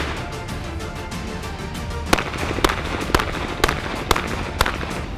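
Six sharp gunshots from a Ruger 1911 Koenig series open-class pistol at a Bianchi-style shooting competition, fired at a steady pace over a busy outdoor background of murmur and noise.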